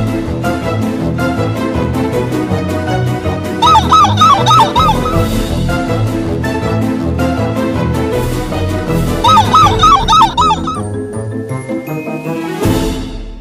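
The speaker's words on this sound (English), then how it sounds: "It's an angry seagull!" Angry seagull calling in a children's treasure-hunt freeze-dance song, squawking cries in two short bursts over an upbeat music backing.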